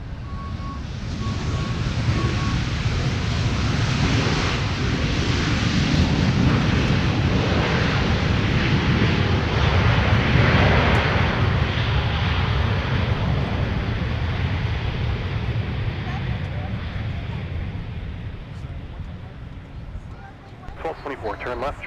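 A jet aircraft roars loudly and steadily at Minneapolis–St. Paul airport, a broad continuous rumble that slowly fades, with faint radio chatter toward the end.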